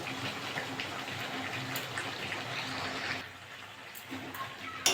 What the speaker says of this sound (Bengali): এবার জল দিয়ে দেবো এবার জল দিয়ে দিলাম